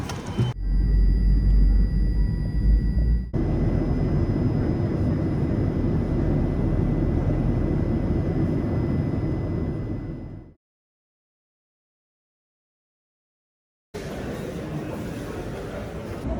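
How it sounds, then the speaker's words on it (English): Large charter airplane heard from the cabin or nearby, a loud continuous low engine rumble that stops abruptly partway through and later resumes. "Big old charter plane."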